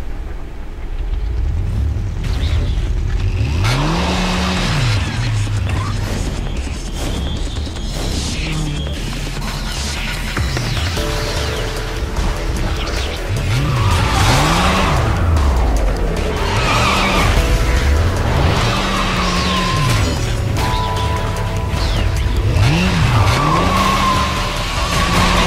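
Motorcycle engine roaring with repeated tire skids and squeals in the video game Bayonetta, loud and continuous, with rising and falling engine pitch and occasional crash-like impacts.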